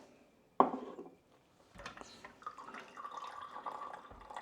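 An espresso maker, a Flair 58 Plus or Profitec Drive, flushes its leftover water: a sharp knock, a brief lull, then a thin, faint trickle and spatter running on close by.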